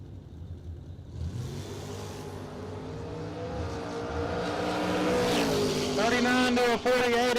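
Drag race cars on a strip, Porsche in the right lane, build into a loud, rising engine roar that climbs steadily, with sharp revving tones toward the end, while an announcer talks over it.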